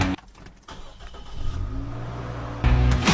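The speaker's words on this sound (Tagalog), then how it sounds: "push start engine" A Nissan Xterra with a 2.4-liter engine starts via push button, a short crank followed by a steady idle and a louder catch near the end, heard close with no talking.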